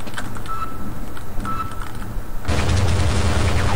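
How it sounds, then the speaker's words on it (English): Enemy gunfire in Half-Life: rapid loud bursts of shots with booming impacts, steady and intense, swelling into a denser, louder barrage in the final second. "What's shooting me?"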